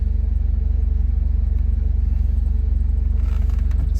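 A 1973 Alfa Romeo Spider engine idles steadily near 900 rpm just after a cold start, a loud, even low throb with a fast regular pulse running unbroken throughout, with faint ticking and rattling on top toward the end.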